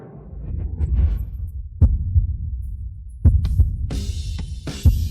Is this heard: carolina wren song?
no